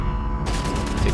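Gunfire in the shooter game Wolfenstein: The New Order, a dense, continuous burst of loud rapid shots crackling through the whole short moment with a heavy low rumble beneath.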